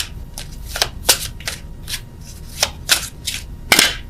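A deck of oracle cards is shuffled close up, with a series of sharp riffling bursts at irregular intervals and no voices.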